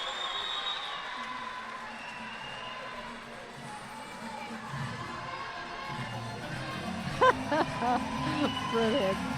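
Crowd cheers and murmurs at a judo Grand Prix in Tunis after a home medal win, a broad steady roar with a few sharper shouts and whistles near the end, under commentary.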